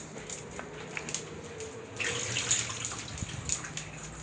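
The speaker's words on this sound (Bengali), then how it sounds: "এখানে পানি রয়েছে, পানিটা একটু ফেলে নিই" Water being poured off a bowl of hilsa fish pieces coated in chili and turmeric powder, a light splashing and trickling that swells midway and lingers alone at close range.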